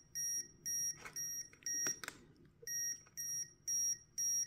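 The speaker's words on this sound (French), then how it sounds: "quand ça bip, c'est que ça dépasse les valeurs limites" A Vevor EM4556 EMF meter gives rapid, evenly spaced electronic beeps, about eight short bursts, marking readings over the limit, with faint handling clicks midway.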